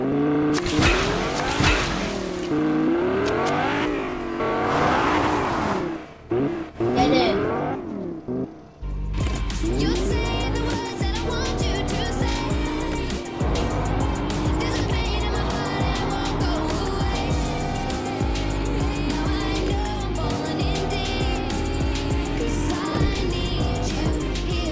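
Video game car engine from Fortnite, a steady droning motor with tire noise running continuously after a brief burst of game sounds and music at the start, loud and close.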